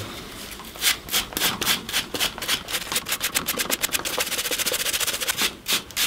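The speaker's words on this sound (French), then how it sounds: "Je vais chercher une brosse métallique" A wire brush scrubs rust off a plastic part, producing rapid, rhythmic scratching strokes up close, speeding into a fast burst of short rasps before slowing again; no voices.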